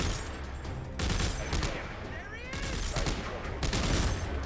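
Rapid bursts of gunfire from headshots in the video game Dead Space 3 come in several loud clusters, mixed with game effects under a speaking voice.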